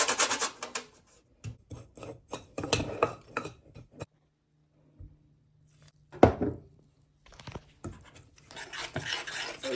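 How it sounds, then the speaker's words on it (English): Whole nutmeg is rasped across a grater for cornmeal porridge in quick, rhythmic scraping strokes. A quiet pause follows before more scattered scrapes and clatter resume. "grate my nutmeg"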